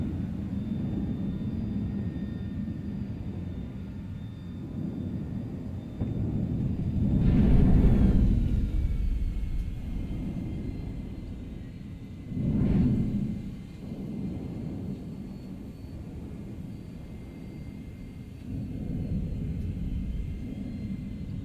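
An aircraft in Borderlands 2 comes in to land, a steady low engine rumble swelling into two heavy roaring surges, with no voices over it.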